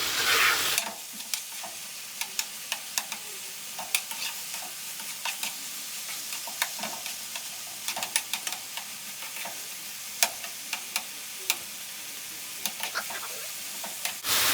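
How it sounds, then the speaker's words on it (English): Chopped onion being stirred into browned beef in a hot pan for beef and broccoli: a soft continuous sizzle punctuated by frequent sharp spatula clicks and scrapes, close and without speech. "I'm going to go ahead and stir that onion in with the cooked beef"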